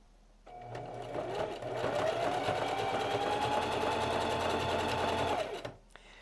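A sewing machine runs steadily for about five seconds in straight stretch-stitch mode, its feed dogs pulling fleece hoodie fabric through. The whirring motor sound is close and even, starting and stopping cleanly with no talk over it.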